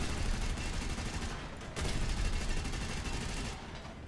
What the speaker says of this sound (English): So I put some rounds up there just to basically harass them, and then essentially fired my guns empty